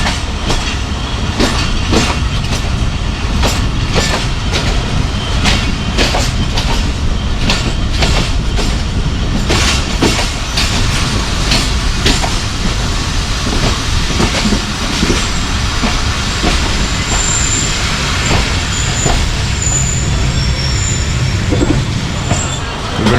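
The Jaffar Express rolls through Punjab between Lahore and Rawalpindi, a loud continuous rumble of carriages with rhythmic clickety-clack over rail joints and occasional wheel squeal.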